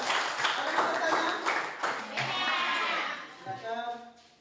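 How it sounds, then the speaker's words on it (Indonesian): A classroom of pupils claps for group 4: several seconds of dense, scattered hand claps that fade out, mixed with murmuring voices. "Oke, tepuk tangan untuk kelompok 4."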